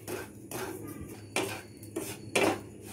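Semolina roasting in a pan while a spoon stirs it, making soft clinks and scrapes against the metal every half second or so under a low background hum, with no talking.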